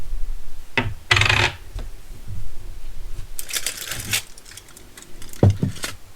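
Silver coins being handled and dropped onto a hard surface during cleaning, giving several bright metallic clinks and rattles at irregular intervals, close and fairly loud, with soft rubbing and handling noises between them.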